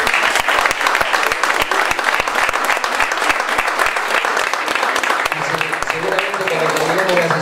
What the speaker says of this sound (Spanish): darle un fuerte aplauso desde acá, de este Consejo Deliberante